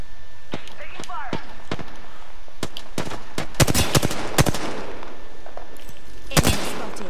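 Gunfire in the game Apex Legends crackles in sharp single shots and then dense bursts. The shots are loud and close, and a voice talks over parts of it.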